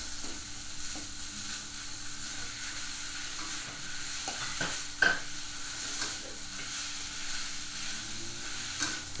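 Tomatoes are stir-fried in a pan for nam prik ong, giving a steady close sizzle broken by repeated scrapes and knocks of a spatula against the pan, with no talking.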